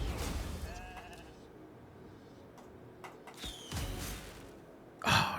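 Sheep bleating in a video game: a few short, wavering bleats over a busy game soundscape, with a louder burst of game noise at the very end.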